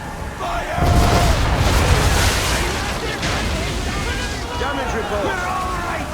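Ship cannons fire in Assassin's Creed 3, a heavy low boom that rolls into a long rumbling wash over sea and wind noise, with voices around it.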